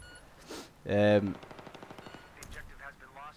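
MP7 submachine gun fire in Battlefield 3, a short loud burst followed by a rapid train of fainter shots, with brief game sounds around it.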